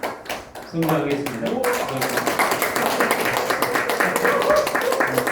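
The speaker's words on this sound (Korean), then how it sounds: "여러분들께서 응원의 박수 한 번이라도 쳐주시면" Audience applause in a Korean forum hall, a broad sustained patter of clapping that swells after a brief spoken phrase and continues steadily to the end.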